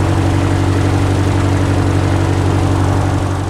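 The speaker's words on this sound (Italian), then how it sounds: "che suono veramente rotondo questo Continental 340 modificato Titan" A modified Continental 340 Titan piston aircraft engine on a Cubcrafters Carbon Cub EX2 runs loud and close, a steady, deep throbbing drone with no change in pitch and no voices.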